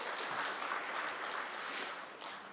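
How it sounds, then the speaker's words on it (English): Faint, even applause from an audience at a business awards ceremony, a soft continuous patter of many hands heard from a distance, with no voices over it. "Please give a huge round of applause for them"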